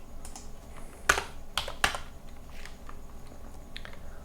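Keystrokes on a computer keyboard while editing Arduino code, a few sharp, close clicks in two quick bursts followed by lighter scattered taps, with no voices.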